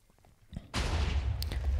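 Minecraft TNT cannon blast comes after soft clicks and a brief fizz, then a sudden loud explosive boom with a sustained rumbling roar.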